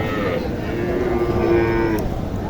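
A cow moos in one long, drawn-out call at a busy cattle market in Naogaon, standing out clearly against the steady crowd murmur around it.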